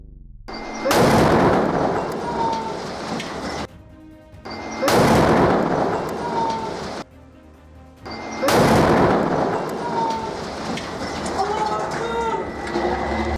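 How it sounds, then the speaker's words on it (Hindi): Three heavy blasts from Yasin 105 shells fired at a Merkava tank in Beit Lahia, Gaza. Each is a loud, sudden roar that rumbles on for a few seconds before fading. "अल कासिम के लड़ाकों ने केंद्रीय बेत लाहिया में आईडीएफ के मिरकावा टैंक पर यासिन 105 गोले"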